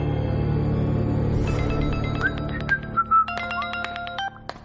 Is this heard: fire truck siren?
no